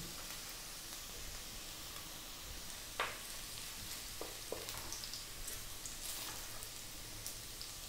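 Garlic frying in a pan in a home kitchen, a quiet steady sizzle with a few sharper crackles and pops scattered through it.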